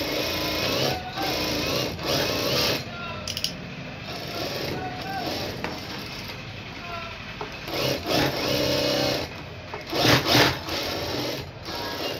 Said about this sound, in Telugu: ఇలా పెట్టేసుకొని ఇప్పుడు దీని చుట్టూ కూడా మనము స్టిచ్చింగ్ అనేది వేసేసుకోవాలి